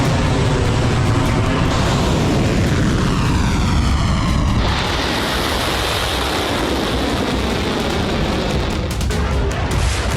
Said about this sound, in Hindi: इजरायली फाइटर जेट लेबनान में लगातार बारूद की बारिश कर रहे हैं।